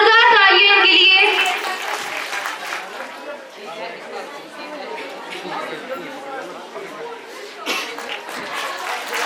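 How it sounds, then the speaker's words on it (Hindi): Clapping from an audience at a government senior secondary school's annual function, starting loud and dense then thinning into scattered claps beneath crowd chatter and children's voices. "जोरदार तालियां इनके लिए।"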